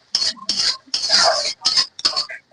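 Onion and a ground masala of cumin, coriander and dried red chilli are stirred in a pan for pangas fish curry; a spoon scrapes and clinks against the pan in several short, uneven bursts separated by brief gaps.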